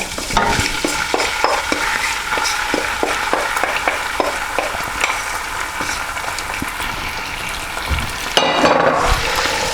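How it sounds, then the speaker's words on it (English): Tomato paste and methi leaves for a Goan chicken vindaloo frying in a pan, a loud continuous sizzle with regular stirring strokes, ending in a brief louder burst. "it's important that we let this tomato paste cook out as well"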